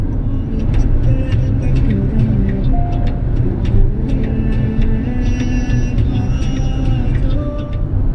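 Car cruising at steady highway speed, about 85 km/h on cruise control, on a night drive from Rajkot to Kevadia: a loud, constant low road and engine rumble with light rattles and faint tones on top.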